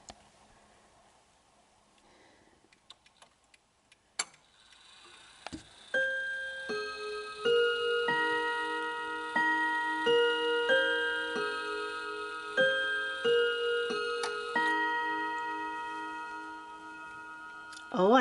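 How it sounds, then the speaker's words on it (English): A stopped clock on a watchmaker's desk is coaxed back to life: faint handling clicks and rustles, then a sharp strike before its ticking and soft chiming hammer tones settle into a steady rhythm, close and fairly quiet. "Oh, I hear it ticking."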